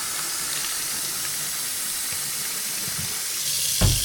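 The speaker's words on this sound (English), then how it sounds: "Now it's getting pretty warm. I'm going to fill this Tupperware." Warm tap water pouring steadily into a Tupperware container, a loud continuous hiss and splash close by, with a soft knock near the end and no talking.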